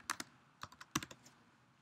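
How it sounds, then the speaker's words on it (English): Quick bursts of keyboard typing, a few clustered keystrokes close and fairly soft, with short pauses between them. "you can just click on these little blue boxes and you can start typing in"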